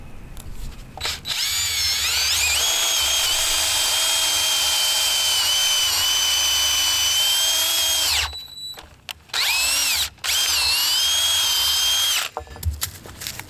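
Power drill boring a bolt hole through a wooden swing set, a loud sustained whine for about seven seconds, a brief stop, then a second long burst before winding down, no voices.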